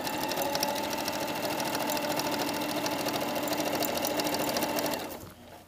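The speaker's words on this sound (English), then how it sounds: "Okay, so I'm sewing side seams and shoulder seam." A sewing machine stitches the side seam of a jacket, a steady close mechanical whirring hum that runs continuously for about five seconds before winding down and stopping.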